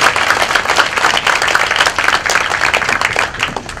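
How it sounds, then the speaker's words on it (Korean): An audience at a rally of union field officials claps steadily and densely for several seconds, a full wash of applause with no voices. "다시 한번 큰 박수로 부탁드리겠습니다"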